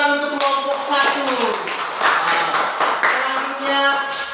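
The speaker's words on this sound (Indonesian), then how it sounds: "Tepuk tangan untuk kelompok 1." A classroom of students claps for a group that has just presented, a short burst of scattered hand claps heard close by under voices and children's chatter.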